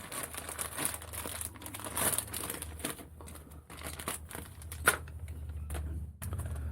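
Plastic bag crinkling and rustling close by while RC desert truck accessories are unpacked, with continuous irregular crackles and a few sharper crunches throughout, and no talking.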